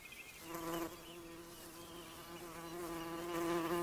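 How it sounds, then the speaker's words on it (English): Rare bees, including moss carder bees and great yellow bumblebees, hum close by in a Scottish meadow, a steady buzzing drone that wavers in pitch as they move around, with soft outdoor ambience and no talking. "the Macaire hums with rare bees like the moss carder and the great yellow bumblebee"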